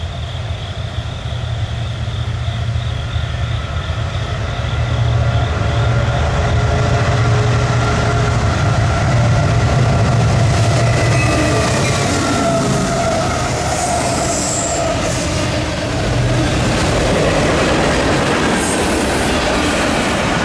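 Long freight train rumbling past close by on the Chicago Line, loud continuous roar with rhythmic wheel clatter and occasional squeals, steady for the whole stretch with no voices.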